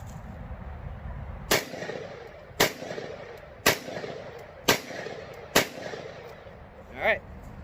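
Gunshots from a handgun firing Wolf ammunition come as five sharp, loud reports spaced about a second apart, followed by a softer metallic clink, with no one speaking.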